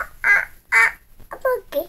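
A young child imitates a duck's quack with four short, nasal vocal bursts in quick succession, close and clear against a quiet background.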